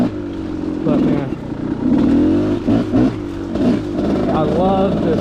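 A Gas Gas 300 dirt bike engine revs in repeated throttle blips and rising surges, loud and close, with a rider talking over it.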